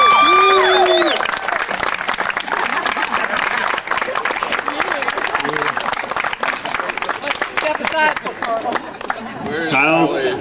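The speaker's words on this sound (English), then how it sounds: "I think you deserve a round of applause." Applause from an audience at a speech fills the room as a dense, steady wash of clapping, with voices and cheers mixed in and a voice heard briefly over it near the start.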